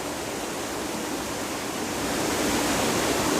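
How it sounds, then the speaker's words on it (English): Water rushing over a double waterfall from a spot right on top of the main falls, a steady broadband roar that holds loud and even throughout, swelling slightly near the end. "There's the double falls I was telling you about right there."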